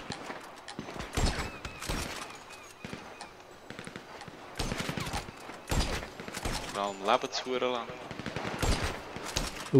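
Bursts of rapid gunfire and single shots in GTA 5 Online under voices talking, with a horse whinnying partway through. The shooting comes in clusters with short pauses.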